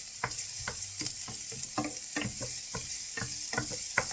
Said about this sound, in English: just saute these up until they're nice and soft